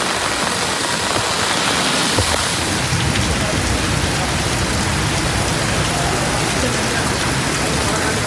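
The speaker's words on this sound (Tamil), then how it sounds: "ராணிப்பேட்டை மற்றும் அதனை சுற்றியுள்ள பகுதிகளில் 1 மணி நேரத்திற்கு மேலாக இடி மின்னல், சூறைக்காற்றுடன் கனமழை வெளுத்து வாங்கியது." Heavy rain pours during a thunderstorm with strong winds in Ranipet, Tamil Nadu, a loud dense roar of water that stays constant throughout without any voices.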